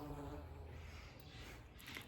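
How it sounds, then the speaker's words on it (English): Bees buzzing in a continuous faint drone with a low hum, steady and somewhat distant, with no talking. "the bees are going a little bit crazy"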